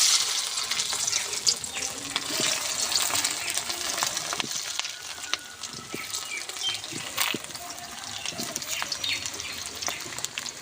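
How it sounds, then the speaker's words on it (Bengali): Potatoes for a chicken curry fry in hot mustard oil in a kadai, giving a dense, even crackling sizzle with scattered sharp pops that runs close and steady for about ten seconds. "আমি মাংসের আলুগুলো তেলের ভেতরে দিয়ে দেব"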